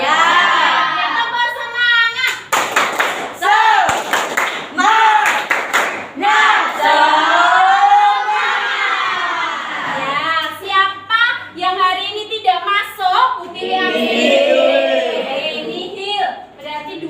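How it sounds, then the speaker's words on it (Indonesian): A class of Year 7 pupils (class 7A) in an Indonesian social studies lesson does a tepuk semangat chant: bursts of rhythmic group clapping break into loud, nearby chanting voices, with speech running through the whole stretch. "pagi hari ini kita akan tepuk semangat dulu biar semuanya semangat di kelas 7A"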